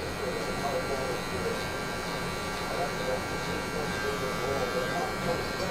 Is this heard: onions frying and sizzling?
no